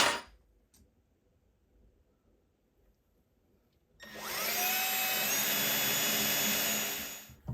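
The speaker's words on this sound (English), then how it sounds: "drill a pilot hole with this" Near silence gives way to a power drill boring a pilot hole for an Ergotron dual computer monitor desktop stand. It whines loud and steady for over three seconds, then spins down, with no voices.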